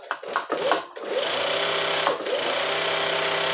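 A two-needle sewing machine with a binding attachment runs steadily, sewing bias binding onto fabric. After a few brief starts and stops, the motor settles into a continuous, close, even whirring hum that holds to the end.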